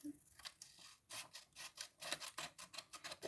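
Scissors cut a strip of paper to make a paper ring, giving a run of quiet, irregular snips and rasping strokes at close range.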